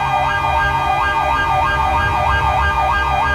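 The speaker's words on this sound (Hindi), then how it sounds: "siren on" A loud wailing police siren sweeps up and down in a steady repeating cycle, close by and continuous, with no voices over it.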